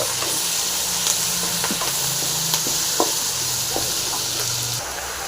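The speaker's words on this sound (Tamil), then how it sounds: "இப்போ இந்த கருவேப்பிலை நல்லா ஃப்ரை பண்ணிங்க" Curry leaves frying in a pan for a mint and coriander chutney, a steady hissing sizzle with a few soft stirring knocks, close and continuous.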